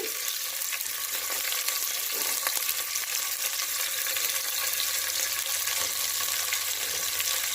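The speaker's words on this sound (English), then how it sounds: "we have to fry this onion until it becomes light brown in color" Onion sizzles steadily in hot oil in a pot with a cinnamon stick, a continuous close frying hiss with faint stirring clinks, for a one-pot mushroom biryani.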